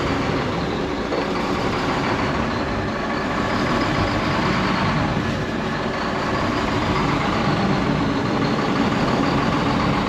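A concrete mixer truck's engine idles low and steady, a continuous broadband rumble that holds at an even, fairly loud level throughout with no voices.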